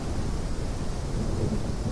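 Steady rain with low rolling thunder from a storm in the Gothic Unreal Remaster video game, a dense continuous wash that holds at an even loudness throughout.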